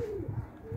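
Pigeons give a brief, soft coo, a low throaty burble lasting under a second at moderate distance, with faint background noise.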